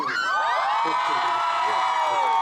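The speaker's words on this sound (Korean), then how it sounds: "큰 박수 보내주세요" A crowd at an outdoor music show in Gyeongju, Oedong-eup, cheers, whoops and shouts loudly and continuously, with high voices rising together throughout.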